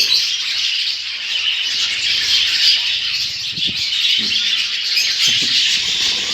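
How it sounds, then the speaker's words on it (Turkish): Budgerigars, including safran-colored parakeets, chatter in a steady high squawking and chirping wash that runs throughout, with a few brief louder calls standing out near the end. "Kuş ben buradayım diyor."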